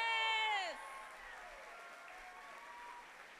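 A rally crowd at ASU for an Arizona gubernatorial candidate breaks into applause for its door knockers, with a bright raised voice or whoop at the start before the clapping settles into a steady wash.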